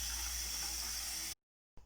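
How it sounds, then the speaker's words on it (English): Water rushes and hisses steadily from a hot water line as stagnant water is bled out at a newly installed Ecotouch 5.5 kW tankless electric heater, a loud continuous spray that cuts off abruptly, then resumes faintly. "There's some stagnant water that was in the line. I'm bleeding it out"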